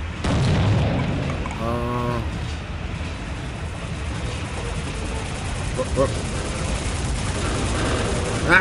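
A helicopter in the shooter game Soldier of Fortune: Platinum Edition, a heavy continuous rotor drone with deep booms and rumble throughout, loud and close, with a voice talking over it.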